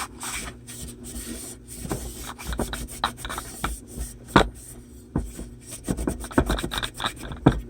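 Scratchy rubbing and wiping sounds, irregular strokes of a cloth with Goo Gone solvent against a RadioShack 8-inch woofer, close up and fairly quiet.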